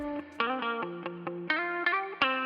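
Distorted electric guitar track playing a short melodic line of sustained, bright notes with a crunchy, harmonically rich tone and effects-laden sheen, each new note struck with a clear attack, no voices.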